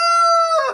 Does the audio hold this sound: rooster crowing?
yes